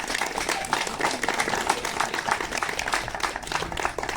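An outdoor crowd at the Pinterville Retro Show concours d'élégance, a classic car show, applauds to thank the town hall: a dense, even patter of many hands clapping that holds steady throughout.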